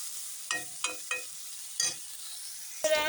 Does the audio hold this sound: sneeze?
no